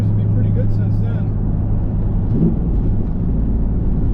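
A 2001 Pontiac Trans Am's engine runs steadily while driving, a constant loud low rumble with a brief rise in pitch partway through. It stays continuous for the whole stretch.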